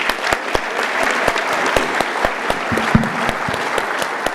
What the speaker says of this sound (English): how about a round of applause for Matt for joining us this year?